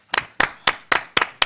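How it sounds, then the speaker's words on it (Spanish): Six slow, distinct hand claps at a steady rhythm, close and crisp, with silence between each, given as applause for businessman Paco Rabón at a Spanish-language interview event. "Venga el aplauso"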